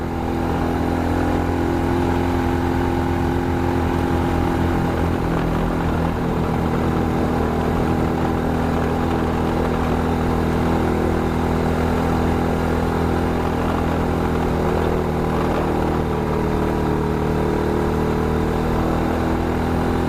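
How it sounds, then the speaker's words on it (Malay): A troubled motorcycle engine, acting up after getting wet, runs continuously, loud and close, with a steady droning rumble that occasionally revs slightly higher. "Aduh, apalah masalah motor ni."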